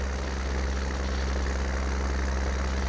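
A vehicle engine in Farming Simulator 19 drones on at a steady, low, even pitch, loud and close throughout with no voices.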